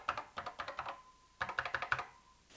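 Typing on the mechanical key switches of an 1980s NABU PC, close up: two quick bursts of crisp, loud clacking keystrokes, each followed by a faint ringing ping, with a short pause between them and no talk.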